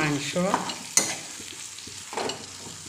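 Meat and spices fry in a pan while being stirred: a soft, continuous sizzle broken by several close scraping strokes of a spoon against the pan.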